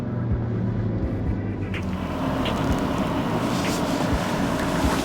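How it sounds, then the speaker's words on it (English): A 2023 BMW XM, a 644 hp V8 plug-in hybrid, accelerating hard, with a loud low engine roar and rushing wind noise building over several seconds, heard from inside without speech. "You hear that V8, folks? You hear it?"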